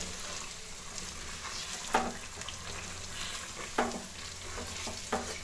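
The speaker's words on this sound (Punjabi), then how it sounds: "ਇਹਨੂੰ ਆਪਾਂ ਹੁਣ ਤੇਲ ਪਾ ਕੇ ਨਾ 1-2 ਮਿੰਟ ਚਲਾਵਾਂਗੇ" Mango chutney stirring and frying in hot oil, a steady sizzle with a few sharp scrapes of the spoon against the pan roughly every two seconds, close and alone without talk.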